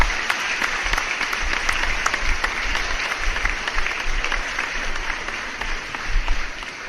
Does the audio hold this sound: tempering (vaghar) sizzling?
no